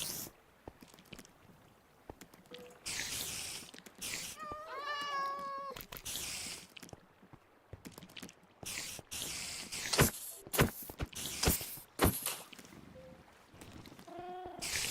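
Cat meowing in Minecraft during a hardcore survival game, several short mews spread over a stretch of clicks, footsteps and other game noises.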